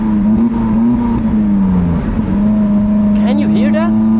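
Lotus Elise engine droning steadily and revving with turbo lag, a loud continuous hum with a dip and swell in pitch, while a person talks over it.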